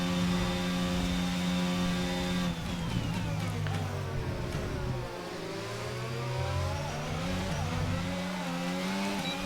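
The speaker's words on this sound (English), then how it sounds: "Terrible wheel spin on exit." An F1 car in the F1 22 video game spinning its wheels on a slow corner exit at the Austrian Grand Prix, its engine loud and steady, rising in pitch, then dipping and climbing again.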